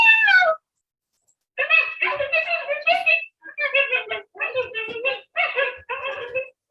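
A group of coyotes yips back and forth, with a short high call, a pause, then a run of rapid, pitched yelps and whines in close succession, loud and clear.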